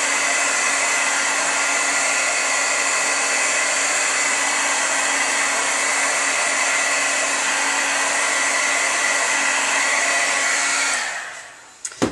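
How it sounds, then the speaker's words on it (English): A heat tool blows hot air to dry distress spray paint on paper. It gives a steady, loud whirring roar for about eleven seconds, then switches off and winds down, ending with a couple of small clicks. "You can let it air dry, or you can go ahead and heat set and dry this as well."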